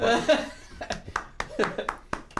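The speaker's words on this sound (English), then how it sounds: "Golf clap." A few light, scattered hand claps on a casual podcast, sparse and irregular over about two seconds, with voices and a bit of laughter mixed in.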